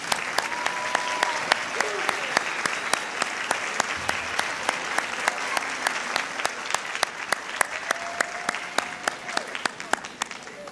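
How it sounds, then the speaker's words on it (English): Audience applause at a Teacher of the Year celebration as honorees stand to be recognized, a dense, steady wash of clapping from a large crowd lasting throughout, with some faint voices mixed in. "Let's give them a round of applause."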